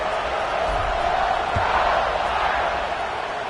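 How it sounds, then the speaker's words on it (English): A college football stadium crowd at the Notre Dame vs SMU game buzzes after a score with a loud, continuous roar, plus some talk and a brief thump within the din. "this crowd is buzzing after that last score"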